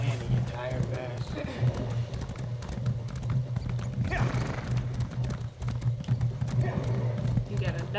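A donkey mount trots in Elder Scrolls Online Greymoor, its hooves making a steady, continuous clip-clop over a low droning background, with people talking over it throughout.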